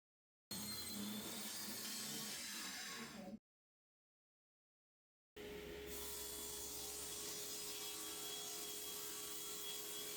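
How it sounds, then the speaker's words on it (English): Power saw cutting wood pieces for a farm stand countertop, running loud and steady in two bursts separated by a few seconds of silence. "Now I'm cutting out the pieces that will hold the cooler down in the countertop."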